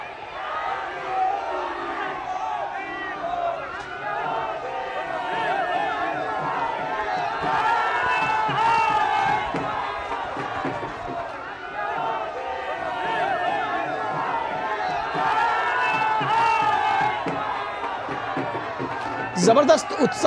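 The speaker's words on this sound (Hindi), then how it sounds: "मोदी मोदी के नारों से गूंज रहा है काशी का आसमान" Dense crowd packed along a road in Kashi, Varanasi, chanting and cheering during a prime minister's visit, a continuous roar of many voices with rhythmic shouting swells throughout, with some nearby voices mixed in.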